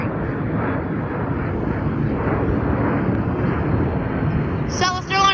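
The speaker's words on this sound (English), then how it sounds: "Southwest Airlines 737-800 Heart Livery, service to San Jose." A Southwest Airlines Boeing 737-800 jet passes at San Diego with a steady, loud broadband engine roar throughout, ending with a short burst of higher-pitched sound.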